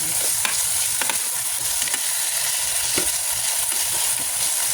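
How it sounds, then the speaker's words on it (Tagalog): Garlic and onion sautéing with tomato for squid adobo, a steady sizzle of frying under repeated stirring scrapes, close and continuous with no talk. "nagsalam tayo ng bawang sibuyas. And then, lalagyan natin yan ng ating tomato"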